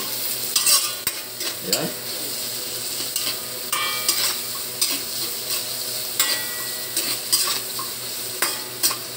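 Aromatics sautéing in a hot pan for garlicky mussels, with a continuous sizzle and repeated scraping stirs of a utensil. A voice briefly speaks once.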